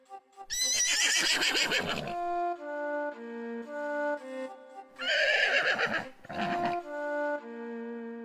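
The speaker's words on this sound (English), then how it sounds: "Meet the horses" A horse at Taiping Equine Park in Perak, Malaysia, gives two loud, close, drawn-out neighs, each a shrill whinny breaking into descending shuddering calls, with no other sounds around them.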